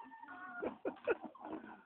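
A hen makes a few short, soft clucking calls close by in a poultry house, quiet and brief.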